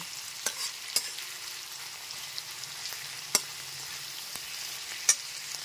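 Chopped onion frying in a pan over a low to medium gas flame gives a steady soft sizzle, broken by occasional sharp clicks and scrapes of stirring, with no talking.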